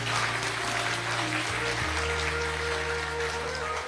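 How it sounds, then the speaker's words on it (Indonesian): An audience claps at an Indonesian Islamic religious talk: dense, steady applause fills the whole stretch at an even level, with a faint low hum beneath it. "Tepuk tangan untuk Allah Subhanahu wa taala."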